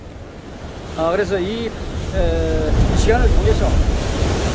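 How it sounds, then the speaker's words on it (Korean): Ocean surf at Samcheok port in Korea: a steady roar of waves breaking on the shore with wind buffeting the microphone, loud and close, while someone speaks over it. "파도가 펑펑 밀려옵니다."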